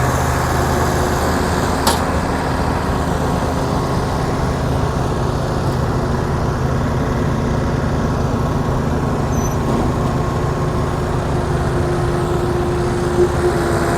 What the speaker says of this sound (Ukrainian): Висипають останнє жито.